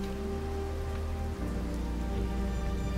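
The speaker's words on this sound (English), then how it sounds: "The storm is getting worse. You can't even hear each other speak as the rain is coming down on top of you." Heavy rain pours as a sound effect for a storm in a tabletop RPG, a dense steady hiss of drops on a surface with a low hum beneath it, continuous and even throughout with no voices.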